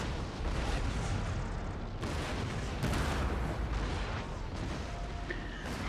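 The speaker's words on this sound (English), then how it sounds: "There's mostly an exchange of artillery fire from the distance at this point" Distant artillery exchange in a Napoleonic battle at Waterloo in a strategy game, a dense, continuous rumble of booming cannon fire with several heavier thumps standing out, loud and unbroken throughout.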